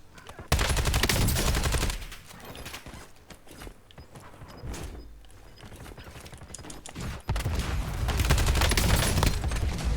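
Automatic weapon gunfire in the shooter game Warzone BO7 comes in loud rapid bursts at the start and again near the end. Quieter mechanical clatter and game sounds sit between the bursts.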